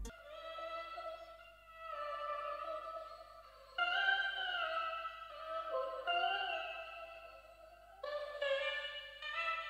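A chopped vocal sample from a one-shot kit, cut into sustained, pitched, breathy vocal phrases that shift note every couple of seconds. It plays softly and continuously on its own, with no talking.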